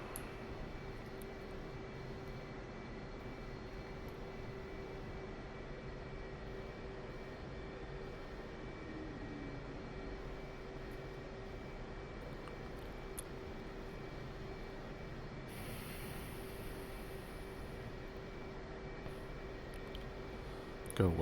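Blue Angels jet engine power rising in a DCS World flight simulation, a steady, loud turbine roar that holds throughout with a brief brighter burst near the end.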